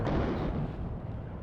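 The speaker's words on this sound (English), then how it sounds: "Nice bombing strike on the bottom side." Bombing strike explosions in the WARNO real-time strategy game, a dense rumbling barrage of low booms that is loud at onset and stays sustained throughout.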